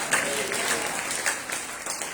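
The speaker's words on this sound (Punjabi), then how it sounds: "ਤਾਲੀਆਂ ਵਜਾ ਕੇ ਆਖਾਂਗੇ ਮਸੀਹ ਯਿਸੂ ਹੈ।" A church congregation claps together in a dense, steady patter that carries evenly for about two seconds, with no voices rising above it.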